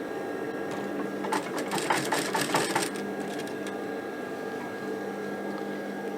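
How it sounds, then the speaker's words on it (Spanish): A sewing machine stitches the crotch seam of a pair of trousers, running in a quick rattling burst of about one and a half seconds before settling back to a steady low motor hum. "Voy a hacer toda la costura de la entrepierna todo entera."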